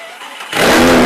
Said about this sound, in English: the team will fire up the engine